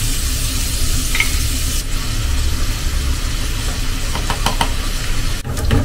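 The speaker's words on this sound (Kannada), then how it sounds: "ಆನಿಯನ್ ಸ್ವಲ್ಪ ಕಲರ್ ಚೇಂಜ್ ಆಗುತ್ತೆ ಅಂತ ಫ್ರೈ ಆಗ್ಲಿ" Onion frying in a pan with salt and turmeric powder, a steady close sizzle stirred now and then, with a few sharper scrapes near the end.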